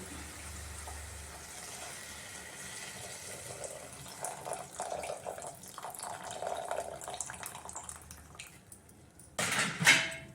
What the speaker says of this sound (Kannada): ಅದಕ್ಕೆ ಎರಡರಷ್ಟು ನೀರು ಹಾಕ್ತಾ ಇದ್ದೀನಿ